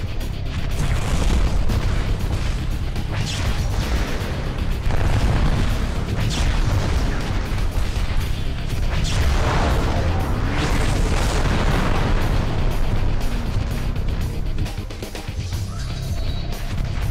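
Continuous rumbling blasts and booming explosions in the video game MechAssault 2: Lone Wolf roll over one another, dense and loud throughout, with crackling bursts layered on top.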